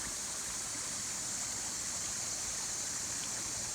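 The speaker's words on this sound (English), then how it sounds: "So the water is flowing down into that sinkhole, or swallet, as some people might call it." Stream at McConnell Springs flowing toward a sinkhole, a steady, even rush of running water with no pauses, moderately loud and close, with no voices.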